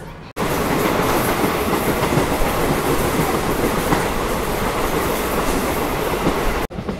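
A DEMU train on the Bengaluru to Hassan line rumbles steadily along the tracks with a loud, continuous roar and faint rail clatter, heard from inside the carriage.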